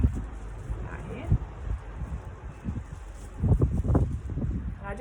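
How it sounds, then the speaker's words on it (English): Gusty wind buffets the microphone outdoors in low rumbling bursts, with some rustling in the background. "it's a bit windy out here."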